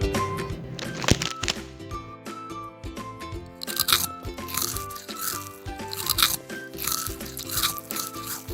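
Crisp crunching and crackling of Wang Wang spicy tomato chips, with repeated sharp snaps and rustles close by, set against steady background music and no talk.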